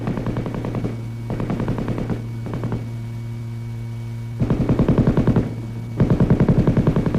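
An M60 7.62 mm gas-operated, belt-fed machine gun fires several sustained bursts of rapid automatic shots, loud and close, with short pauses between bursts over a steady low hum.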